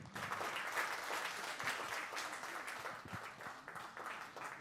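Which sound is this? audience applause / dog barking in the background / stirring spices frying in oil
audience applause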